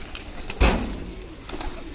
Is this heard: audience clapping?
no